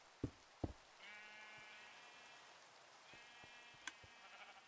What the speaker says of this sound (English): I'm ignoring the sheep.